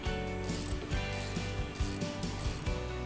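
Ratchet wrench working bolts loose on a Cobra Fortis lawn mower, a rapid run of close mechanical clicks broken into short repeated bursts as the handle swings back and forth.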